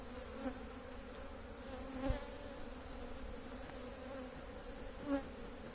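Honeybees at a hive stirred into motion by a light breeze, a soft continuous buzzing hum heard faintly alone, with a few brief louder buzzes as individual bees pass close.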